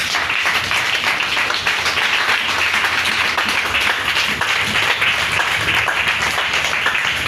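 A church congregation applauding, a dense, steady wash of many hands clapping together that fills the room for several seconds at an even, loud level.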